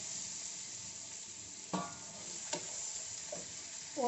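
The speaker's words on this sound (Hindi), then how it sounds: "अब ये जो सब्जियां काटी हुई हैं इनको डाल देंगे इसमें" Chopped vegetables go into a hot pan for paneer taka tak, giving a soft steady sizzle with a few sharp scraping stirs and knocks, fairly quiet and close, no talk.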